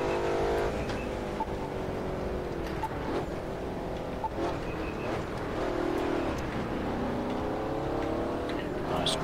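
In The Crew 2, a car engine strains high against its rev limiter on a snowy drive, a loud, sustained buzzing whine that dips and climbs in repeated surges, with faint knocks and bumps underneath.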